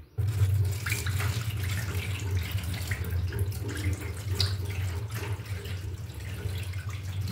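Rice is washed in water at home, several times over. Water runs and swishes steadily throughout, with a low hum underneath and small splashes rising above it.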